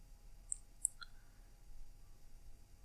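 A couple of sharp, faint clicks from a computer keyboard key, two quick taps close together followed by a softer tick, over a quiet steady background hum with no talk.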